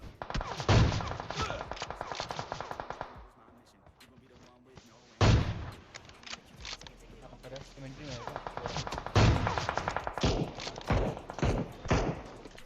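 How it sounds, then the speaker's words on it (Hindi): PUBG Mobile gunfire: rapid bursts of automatic shots, including an M4, and a few heavy single blasts, close and loud, separated by a quieter stretch. "लेकिन कोई और गोली चलाने लग जाता है"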